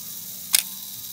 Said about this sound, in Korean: 셔터 떨어지는 소리 들리죠?